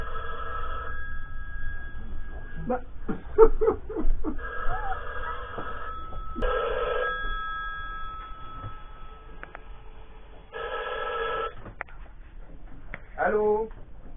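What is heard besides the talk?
telephone ringing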